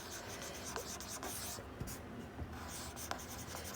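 A pen scratching steadily across paper while drawing a natural hair journey, close and continuous with a few sharper strokes and taps, and no voices.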